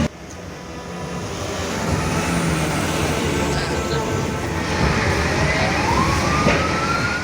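A fire engine siren wails over heavy traffic rumble, its tone sliding upward near the end amid a noisy street scene.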